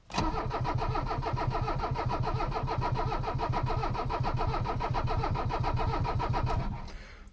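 A 1985 Mercedes 300CD diesel engine cranks on ether with rapid, even starter pulses for about six seconds before stopping abruptly, loud and close with no talking.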